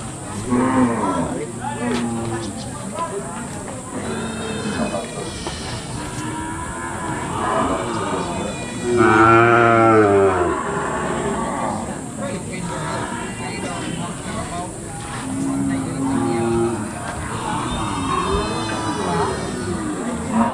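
Cattle at a busy rural stockyard moo repeatedly, some calls long and loud nearby and others fainter, over a background of people talking throughout.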